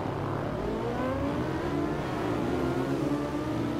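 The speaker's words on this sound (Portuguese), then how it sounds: "Aquele aquecimento dos motores." KTM Duke 690 motorcycle engine revving at a race start in the video game Ride 2, a continuous mid-pitched engine drone rising slightly in pitch as several bikes warm up together, steady and unbroken.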